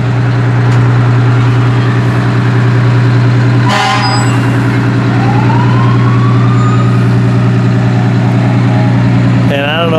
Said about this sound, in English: this Granite County Sheriff's vehicle is going to mark the end of the parade